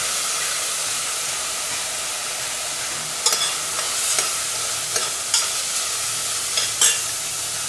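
Vegetables with carrot being sautéed and stirred in a pan for spicy mushroom fried rice, a steady frying hiss with a few sharp scraping clicks of the stirring spoon, no talk.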